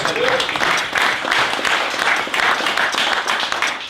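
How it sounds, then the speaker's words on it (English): A room of guests applauds Rick Mason at a Fleet Street Sporting Club event, steady dense clapping in pulsing waves that carries on throughout. "Give Rick a round of applause, please."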